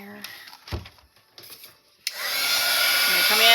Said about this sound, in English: going to come in again with the blow dryer,